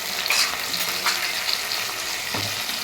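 Tomato puree with ginger, garlic and chilli paste fries in a pan for a jackfruit and prawn curry, producing a loud, dense, continuous sizzle with a few sharper spatters and a soft scrape near the end.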